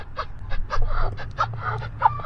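Ducks quack and honk in a loose, overlapping run of short nasal calls, close by and fairly loud against a low background rumble, with no one speaking.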